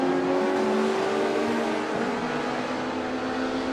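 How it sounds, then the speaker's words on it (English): Drag race cars, a Honda Civic and a Ford Mustang, roar loudly in a steady sustained engine drone at an all-motor import versus domestic drag racing event, close and continuous. "Vickery in the Civic, Stevens in the Mustang"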